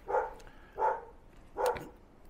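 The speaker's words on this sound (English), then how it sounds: "Next door neighbor's dog is barking" Next door in Wellington, New Zealand, a neighbour's dog gives three evenly spaced barks at moderate distance, fairly soft against low background noise.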